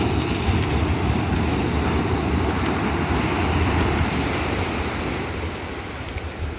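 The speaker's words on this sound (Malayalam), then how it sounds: "ഈ തിരകൾ വന്ന് കാലുകളെ ഇങ്ങനെ തഴുകിക്കൊണ്ട് നിൽക്കുമ്പോൾ" Sea waves wash onto a beach in a continuous loud roar of surf, with broad rushing noise and some wind buffeting, fading slightly at the end, no voices.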